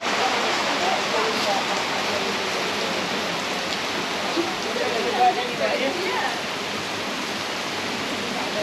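Steady, dense rain pours down at a food court on Phangan, a loud unbroken hiss of drops hitting surfaces with no letup.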